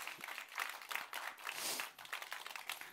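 A congregation at a church winter retreat claps in quick rhythmic bursts, faint and close together, a few seconds of patterned applause with no talk over it.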